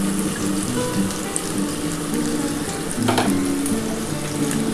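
Garlic and ginger fry in a pan with a steady, close sizzle that runs throughout, with brief watery crackles and no voices.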